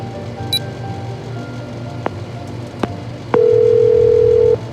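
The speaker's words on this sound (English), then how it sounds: "Lara isn't answering her phone." A phone call in the Memento Mori video game goes unanswered, with faint clicks followed by one steady electronic ringing tone held for about a second, alone over a low background hum.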